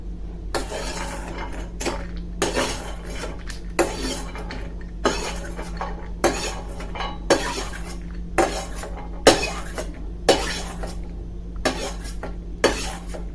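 Metal spatula stirring and scraping dry fruits roasting in a pan, with repeated clinking strokes at a steady rhythm over a low constant burner hum, close and fairly loud.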